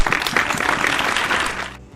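An audience at a 75th-anniversary celebration applauds during an honouring ceremony, with dense, steady clapping that stops abruptly near the end.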